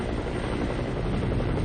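Steady, loud rotor and engine roar of a Red Cross helicopter in flight, heard from inside or close by, continuous with no voices.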